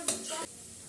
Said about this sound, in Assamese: সেইফালে নহৰুটো দিয়া হ'ল আৰু অলপ সময় ভাজি লৈছে